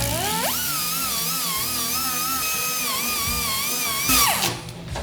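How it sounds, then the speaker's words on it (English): A power sanding pad whines steadily against a Ford F100 hood as paint is stripped away, a loud, close, continuous buzzing tone that wavers slightly in pitch before spinning down near the end. "I'm going to sand the paint off and the little spot weld divots will show up."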